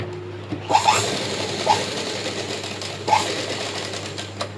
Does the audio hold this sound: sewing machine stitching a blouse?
yes